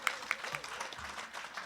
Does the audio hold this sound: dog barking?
no